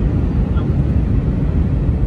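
Broadband roar of an airplane heard from inside the cabin, a steady loud low rumble running unbroken throughout, with faint voices mixed in.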